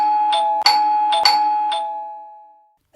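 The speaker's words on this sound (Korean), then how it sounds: "온 집안이 울리도록 벨소리가 요란스럽다." An electronic doorbell chimes in quick, ringing tones, two overlapping ding-dong rings that fade out, then a brief new chime at the very end.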